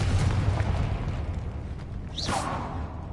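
A Confringo spell is cast in Hogwarts Legacy, with a whooshing burst rising sharply over a constant rumbling game background, loud and close.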